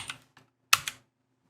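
A few quick keystrokes on a computer keyboard entering a command, two small clusters of light clicks close by, the second louder, then silence.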